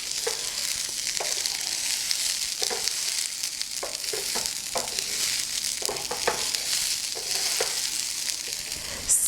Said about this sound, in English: So now we just stir our rice for about a minute